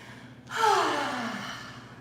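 One long, deep breath is drawn in audibly during a yoga pigeon pose. It swells in half a second, then slowly fades, close and alone, with no talking.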